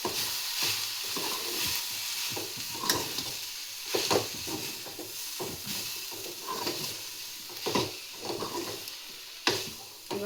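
Turmeric being stirred into a drumstick sambar curry in a frying pan, with a low sizzle under intermittent scraping spoon strokes and a few sharper clinks against the pan.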